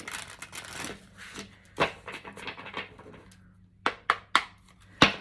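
Tarot cards are riffled and shuffled in quick flurries, followed by a few sharp taps and slaps as the deck is squared, close and crisp.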